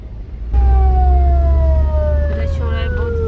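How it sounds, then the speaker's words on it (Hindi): A siren on an ambulance stuck in heavy road traffic near Hyderabad wails loud and close, a steady descending tone that holds over the rumble of engines. "एम्बुलेंस शायद इसको जगह देनी चाहिए, चाहे मरीज ना हो।"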